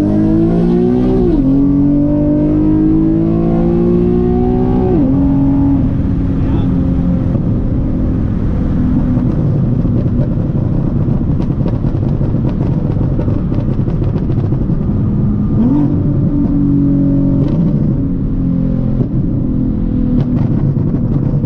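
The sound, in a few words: Nissan 370Z Nismo engine revving during an acceleration pull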